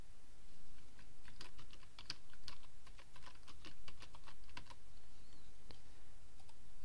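Steady typing on a computer keyboard while writing a blog post, with quick irregular key clicks, close and fairly quiet, running continuously with short pauses and no talking.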